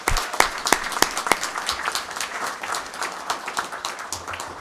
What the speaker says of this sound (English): Big round of applause for all of our athletes.